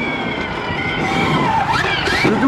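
Motocross bike ridden around an amateur supercross track at MC Vinneuf, a steady close engine drone that rises and falls in pitch as the rider works the throttle over the jumps, continuous and loud throughout.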